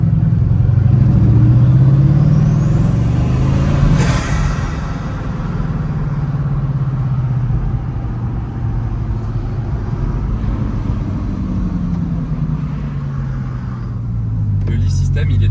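A Bugatti Chiron's engine swells as the accelerator is pressed, a deep loud rumble rising and falling in pitch inside the cabin, with a voice talking over it.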